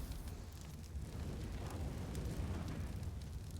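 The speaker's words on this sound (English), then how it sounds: "Nice nade on Bigger Zero will do that damage." A grenade blast in a CS:GO match on Dust2, a broad rumbling burst that rolls on for several seconds, fairly loud and without talk over it.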